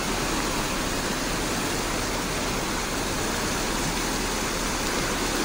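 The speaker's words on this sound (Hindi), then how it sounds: "ये बीच सड़क से पानी निकलता हुआ नजर आ रहा है" Monsoon rainwater rushing across a washed-out road in Manendragarh, a loud unbroken roar of flowing water with no pauses, filling the scene like a torrent.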